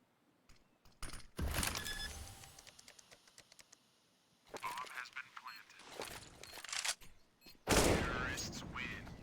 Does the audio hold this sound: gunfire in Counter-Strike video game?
yes